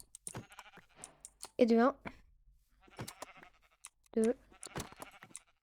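Sheep in the Minecraft video game bleat twice in short wavering cries, close and loud, amid quick clicking and someone talking in French between them.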